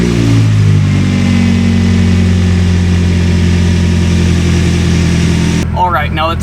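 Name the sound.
car engine starting and revving after crank pulley install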